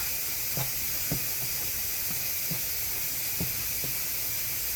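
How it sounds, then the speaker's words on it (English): A pressure canner running on a kitchen stove, giving a steady loud steam hiss with soft rattling taps repeating about every half second. "My canner is back up and going again"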